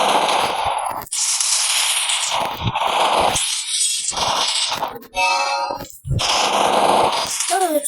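Shooter video game gunfire rips out in loud, close bursts of rapid shots and single cracks, separated by brief silent gaps, with metallic pings between volleys.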